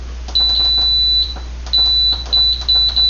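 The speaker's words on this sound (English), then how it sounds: "Sorry for all the beeping." A pressure cooker control panel emits a series of short, high electronic beeps, some spaced apart and others in quick clusters, with soft tapping between them.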